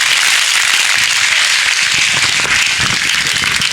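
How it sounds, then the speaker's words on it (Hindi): An audience at a youth Bible convention of the Jashpur diocese claps loudly and steadily, a dense, close wall of applause lasting throughout. "जोर से ताली बजा करके प्रभु को धन्यवाद।"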